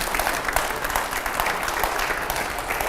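Loud, dense applause from a studio audience during a political interview show, a steady wash of clapping that holds evenly without a break for the whole stretch.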